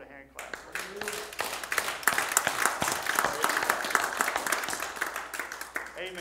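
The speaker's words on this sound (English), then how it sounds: "Give the Lord a hand clap." A church congregation at a Sunday service claps their hands in praise, a loud, ragged burst of many sharp claps starting after a brief word and continuing steadily, with voices calling out over it.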